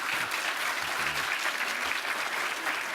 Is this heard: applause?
yes